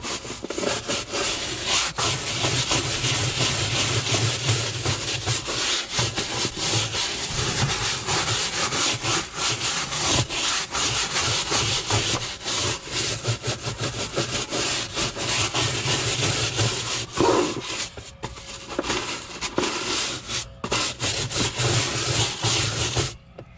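A brush scrubs the Armorlite floor mat of a Jeep Wrangler JKU with Super Clean degreaser, giving a loud, close, continuous scouring rasp that barely pauses for over twenty seconds.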